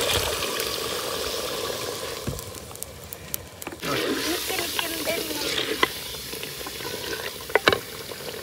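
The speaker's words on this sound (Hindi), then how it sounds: "जो दौरी में मसाला पीसा था अदरक लहसुन और सब्ज़ मिर्च खुश्क धनिया का, इसमें पानी डाल के ये भी मैं इसमें डाल दूंगी" Chicken frying in a pan as a watery paste of ground ginger, garlic, green chili and dry coriander goes in, giving a loud steady sizzle and hiss with stirring clatter and bursts of steam.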